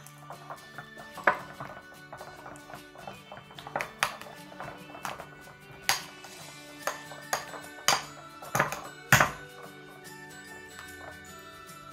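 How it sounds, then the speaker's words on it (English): Cream cheese being mixed with icing sugar in a bowl, with repeated sharp utensil taps and clinks against the bowl's sides in an irregular rhythm over a faint steady background. "Now we're gonna mix our cream cheese with the icing sugar we put in there"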